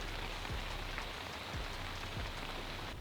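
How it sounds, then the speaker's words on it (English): Steady rain pattering on a fishing tent at a carp lake, a dense continuous hiss with occasional louder drops striking the fabric, close and even throughout. "Yeah, it's raining."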